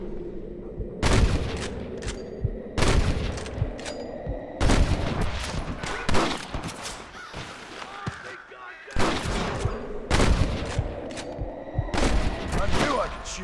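Gunfire in the PC video game Red Dead Redemption, with repeated loud bursts of rifle and pistol shots in irregular volleys, some booming, as voices talk between and over them.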